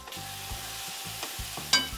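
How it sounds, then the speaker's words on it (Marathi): Spice masala of cumin-coriander powder, garam masala and red chilli powder roasting in oil in a pan, with a steady soft sizzle and a few scraping stirs, one sharper scrape near the end, no voices. "आता हा मसाला पूर्ण चांगला आपण तेल चांगलं सुटस्तवर भाजलेला आहे"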